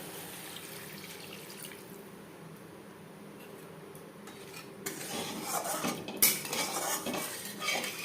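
Water poured into a pan of spices being cooked for a light summer fish curry, with a faint clink of utensils, followed by louder splashing, stirring and metal scraping against the pan.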